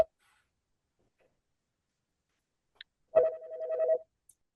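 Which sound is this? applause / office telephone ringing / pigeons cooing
office telephone ringing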